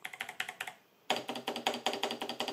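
Rapid keystrokes on an 8Bitdo M Edition mechanical keyboard with Kailh Box V2 switches, a steady run of sharp clacky taps that briefly pauses near one second, then resumes denser and louder, close and alone.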